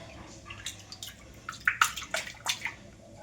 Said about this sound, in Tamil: தண்ணி அடித்து ஊற்றிக்கிட்டு இருக்கேன்